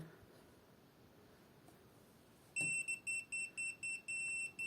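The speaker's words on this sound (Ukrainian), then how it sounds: "Біпер на повну, на повну пікає і звучить." A MAXRIENY X2 multimeter's continuity beeper sounds in a series of loud, shrill electronic beeps with short gaps, after a few seconds of quiet room noise.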